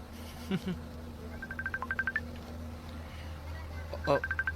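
A telephone rings as a radio drama effect, sounding as two groups of quick electronic trilling pulses with a gap between them, and a voice breaks in briefly.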